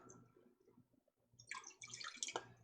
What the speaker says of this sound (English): We'll just rinse this bowl out.